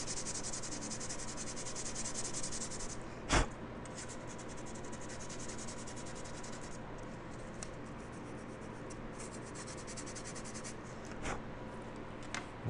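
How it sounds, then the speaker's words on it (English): Plastic model airplane pieces being hand-sanded to roughen them for glue: a soft, continuous rasping scrub close by, with two brief sharp knocks along the way. "We're going to sand this a little bit here too."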